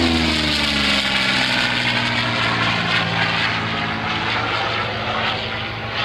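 Aerobatic warbird flying past at a World War II air show, a loud propeller engine drone that holds steady and then eases slightly as the plane passes, with no voices.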